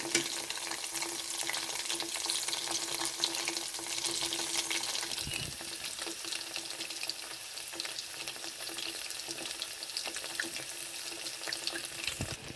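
Coconut-stuffed sweet rolls frying in a pan until browned on both sides: a steady, bright hiss of bubbling oil holding constant throughout, with a faint clink partway through.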